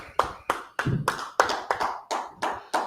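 A group of men clap together at a brotherhood class meeting, about ten sharp, loud claps landing in a steady rhythm with no talking.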